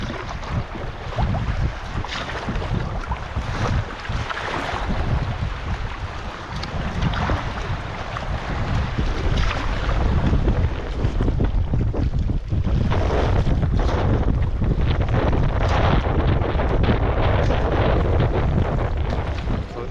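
Strong, steady wind buffets the microphone over choppy water slapping around a canoe crossing Lake Huron's open main channel, a loud, continuous roar with no talking.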